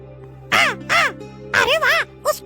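A crow caws four times in a cartoon story scene, loud, close and harsh, with short evenly spaced calls standing alone with no talk.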